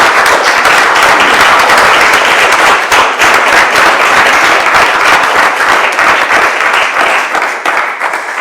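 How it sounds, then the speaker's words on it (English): A round of applause from an audience at a community trust talk, loud, dense and sustained clapping throughout, close and alone. "But I think that's worth a round of applause."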